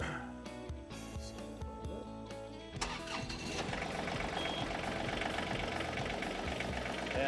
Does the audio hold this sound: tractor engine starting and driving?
yes